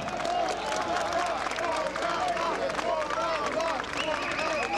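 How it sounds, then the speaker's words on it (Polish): Warm applause from an audience honouring a scouts' and firefighters' brass band at an autumn wind-orchestra festival, steady dense clapping filling the hall with crowd murmur and talking over it. "Gorące brawa."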